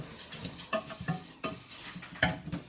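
A wooden spoon stirs alphabet soup with vegetables in a metal pot, giving a run of close, irregular clinks and scrapes, several sharp knocks against the pot's side, and soft sloshing between them.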